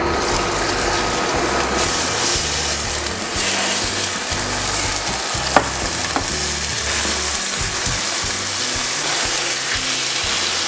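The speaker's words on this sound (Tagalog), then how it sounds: "habang pina-fry natin ang ating chicken breast" Chicken breast sizzles steadily in hot oil in a pan, a dense continuous frying hiss with faint scraping and clicking of a utensil, close and alone with no talk, glazed with honey later.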